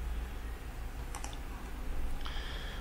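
A few faint, sharp computer mouse clicks come while copying and pasting cells in a spreadsheet, with two brief clicks close together over a low steady room hum.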